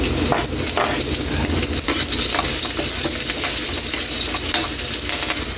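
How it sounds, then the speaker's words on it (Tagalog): Anchovies frying with green and red chilies in a pan, with a steady loud sizzle and crackle and occasional stirring scrapes, close up and without talk. "Ilagay na natin yung siling green at siling pula para spicy."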